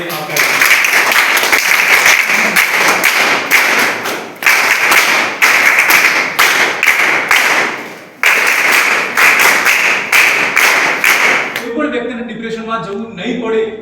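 Sustained loud applause from an audience welcoming guests at a mental health and suicide prevention event, dense clapping in long waves with brief dips, fading into a short stretch of quieter sound at the end.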